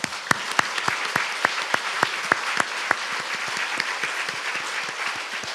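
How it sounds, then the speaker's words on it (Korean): Church congregation applauding during a Sunday service, steady crowd clapping with a few loud, distinct near claps ringing out in a regular rhythm above the wash before thinning into lighter scattered claps. "그 살아계신 하나님께 영광의 박수 한번 쳐주십시오"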